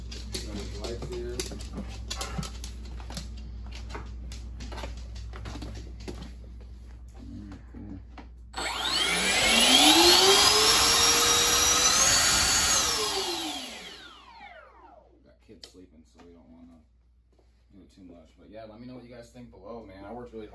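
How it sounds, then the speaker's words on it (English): The afterburner of a Freewing MiG-21 RC jet with an 80mm electric ducted fan spools up to a loud, rising whine, holds for several seconds and winds down, with people talking before and after. "we're going to fire up the afterburner for you guys right now"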